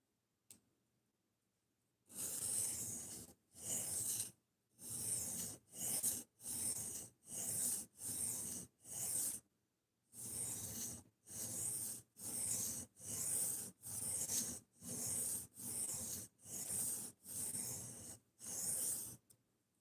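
A knife blade drawn across a sharpening stone in a quick series of rasping strokes, each a short gritty scrape with brief pauses between, close and clear with no talking.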